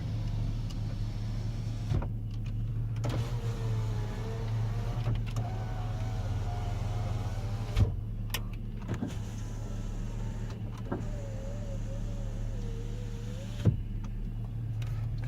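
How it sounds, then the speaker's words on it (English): Power windows on a 2004 Chevrolet Suburban 4x4 with newly replaced regulators and motors whir up and down in several separate runs, each a steady electric motor hum ending in a soft thud, over a constant low idle. "Power windows work, as I mentioned too."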